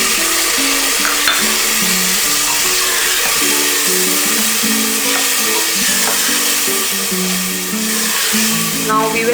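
Tomatoes fry in ginger garlic paste for a mushroom biryani, giving a steady loud sizzle with occasional stirring, while soft background music plays underneath.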